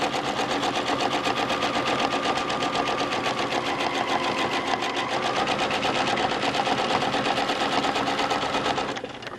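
A sewing machine runs continuously for free motion quilting of feathers, a fast, even mechanical stitching rattle close up with no talk.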